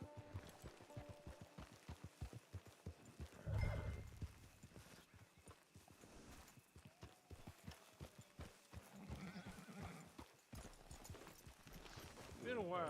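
Hooves clip-clopping in an uneven rhythm, with a horse's whinny partway through and people talking intermittently, in a video game.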